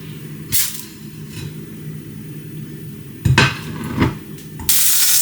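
Butter melting in a frying pan gives a soft sizzle under scattered clinks and scrapes of pan and utensils, with a louder clatter near the end and no one speaking.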